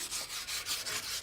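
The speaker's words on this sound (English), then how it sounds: "So take the wire brush, rub it along it." A wire brush rubs along a garden pot in quick back-and-forth strokes, a close, rhythmic, gritty scratching that pulses with each pass.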